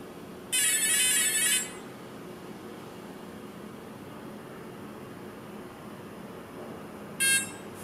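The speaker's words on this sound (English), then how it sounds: "You will hear the power on beeps." An Align RCE brushless ESC sounds its power-on and throttle calibration beeps: a loud, bright electronic tone burst lasting about a second, then a shorter second burst near the end over a steady faint background hum.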